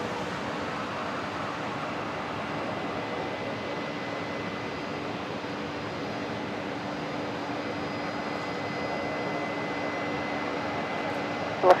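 Qantas Airbus A330 arriving from Auckland and landing on runway 01 right at Brisbane Airport, a steady broad jet roar with a faint whine, distant and even, rising slightly at the very end.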